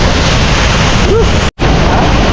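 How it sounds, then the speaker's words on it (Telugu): Loud, constant roar of a waterfall crashing down close by in Cherrapunji, Meghalaya, broad and unbroken, with a brief dropout near the middle. "దగ్గర నుండి చూడండి వాటర్ ఫాల్"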